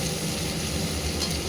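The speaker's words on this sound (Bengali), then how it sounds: "পেঁয়াজটা লাল করে খুব ভালোভাবে পেঁয়াজটাকে ভেজে নেব।" Onion frying in a pan to reddish brown for masoor dal, a dense steady sizzle with continuous stirring, close and loud, no voices.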